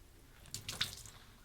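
Water is poured onto a water-repellent hoodie, giving a few brief, soft splashes and trickles close by against a quiet background.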